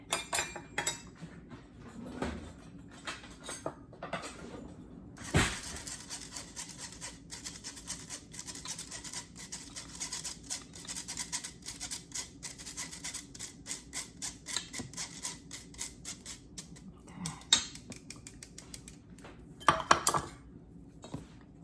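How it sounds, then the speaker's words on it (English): Dry ingredients for gluten-free, grain-free chocolate banana muffins being sifted, making a rapid, continuous metallic ticking and rasping of a sifter, close and soft, with a few louder clinks scattered throughout. "So I will sift them all together, the dry ingredients."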